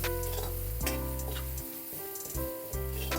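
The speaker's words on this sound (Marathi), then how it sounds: "आणि कांद्याबरोबरच आपल्याला मसाला पण असा छान परतायचा आहे." Onions and spice masala sauté over low heat in a pan, a soft sizzle with a few stirring scrapes, fairly quiet and close, with no voices.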